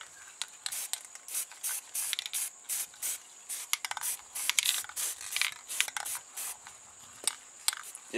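Short bursts of spray paint hiss in quick, uneven pulses while a coat goes onto the inside of a set of wheels between the spokes, close and fairly loud, with no talking.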